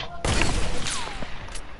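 Gunfire in a PlayStation shooting video game: a dense burst of shots starts after a brief pause and keeps rattling close and loud, with a voice speaking over part of it.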